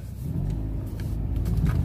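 A car engine turns over and revs low, a steady deep rumble building slightly in loudness over a short moment, close by and with no talking.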